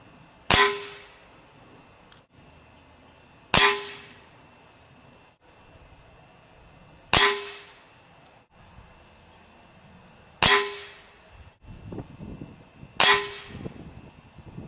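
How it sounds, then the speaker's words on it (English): Crosman Quest 1000 air rifle firing Kodiak pellets outdoors, five sharp, loud shots spaced about three seconds apart, each a crisp crack with a short ringing tail, followed by faint rustling. "I'm going to shoot one more group with the Kodiaks."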